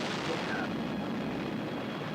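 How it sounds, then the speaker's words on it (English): An explosion in the 1984 film Night of the Comet, a steady rumbling blast heard at moderate level throughout, dense and low without distinct separate bangs. "I think I'll rewind just so we can watch an explosion."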